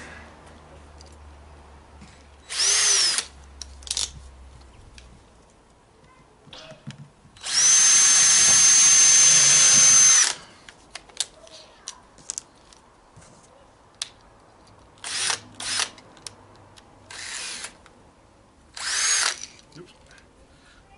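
A power drill boring into wooden baseboard in short whirring bursts, one long steady run in the middle, separated by quiet pauses with small clicks and handling noises close by.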